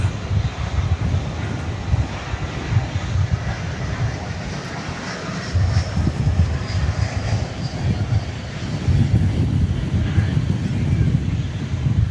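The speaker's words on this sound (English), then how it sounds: "I'm going to bring you the arrival of American 681 from Cancun. This will be an Airbus A321." An American Airlines Airbus A321 arriving at DFW Airport after dark makes a continuous low engine rumble and roar, steady and moderately loud, mixed with gusty wind buffeting the microphone.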